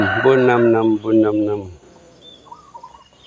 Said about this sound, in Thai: ไก่น้อยเสียงดี เวลาขัน